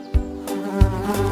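Buzzing insects, bees in a children's song, a steady tonal hum with two soft thumps near the start, playing alone at moderate volume.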